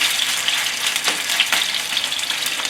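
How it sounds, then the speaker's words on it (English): Chicken pieces frying in hot oil in a stir-fry pan, a loud, continuous crackling sizzle with small popping bursts, close and steady with no talking. "we got this beautiful protein chicken in the hot oil"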